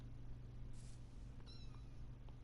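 A Minecraft cat gives a couple of short, clear meows over a low background hum, fairly quiet and alone.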